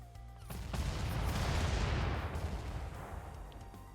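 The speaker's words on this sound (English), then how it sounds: "He's just going to take pot shots or rocket at us." Enemy mech fire in the video game Front Mission 2: a heavy rocket or cannon blast swells into a rumbling, crackling barrage that slowly fades over a few seconds.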